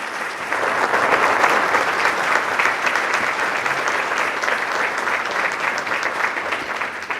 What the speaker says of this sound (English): let's give them a big round of applause here.